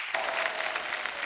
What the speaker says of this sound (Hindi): जोरदार तालियां यार असरानी साहब के लिए